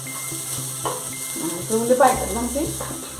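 Onions sauté in a pan, a soft sizzle with stirring clatter and scrapes, partly under a speaking voice.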